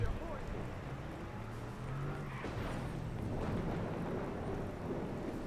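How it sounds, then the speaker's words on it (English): A thunderstorm in the video game Watch Dogs gives a deep, continuous rumble with rain-like wash, steady and loud throughout, and a voice can be heard faintly underneath. "Is that a storm happening?"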